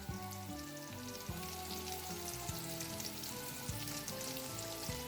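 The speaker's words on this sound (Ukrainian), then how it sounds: "кабачка і трішечки обсмажуємо, підсолюю." Zucchini rounds sizzle and fry in a pan, a steady close crackle with no talking, while faint tones hum underneath.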